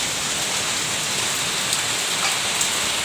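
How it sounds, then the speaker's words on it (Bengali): Heavy rain lashes down outside during a strong windstorm, a loud, unbroken hiss of drops on surfaces with no pauses and no voices. "ঝড়ের আওয়াজও তো রয়েছে ভীষণ ঝড় হচ্ছে"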